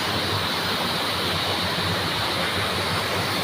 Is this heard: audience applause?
no